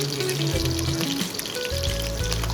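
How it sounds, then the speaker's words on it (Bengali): Seasoned fish fries in a pan, a close steady sizzle and crackle of hot oil running through the whole short stretch, with a faint tonal hum underneath. "মাছ ভাজা দিয়ে দিলাম, চলছে"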